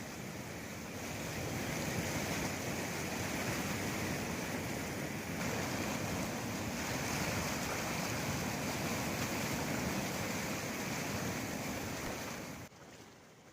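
Strong, fast floodwater rushing across a road during heavy monsoon flooding in India, a loud, steady roar that holds for over ten seconds with no voices, then cuts off abruptly.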